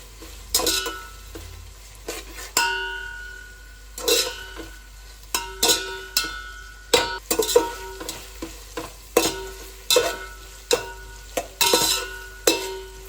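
Chopped onions fry in hot oil in a pan while a spoon stirs them, sending out a string of sharp, irregular scrapes and clatters over a faint, close sizzle, with no talking.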